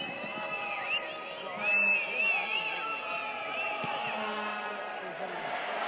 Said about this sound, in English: The crowd like it, AJ likes it.